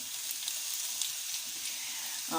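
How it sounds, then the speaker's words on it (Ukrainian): Chopped onion sizzling in a hot pan with no salt, a steady soft crackle and hiss throughout, close and even, with a faint clink near the end. "Ось цибуля вже починає підсмажуватися"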